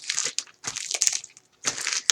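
A brayer rolled across a plastic Ziploc bag laid over paper with cheap acrylic paint, making close crinkling, crushing rolls in three bursts with short pauses between, no talk.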